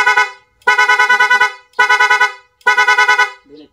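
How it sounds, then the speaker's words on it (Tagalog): A loud, rapid aftermarket electric dual horn on a Yamaha Sniper 155 motorcycle sounds in three quick bursts, each a fast warbling rattle of repeated honks, with short pauses between them. "rapid horn"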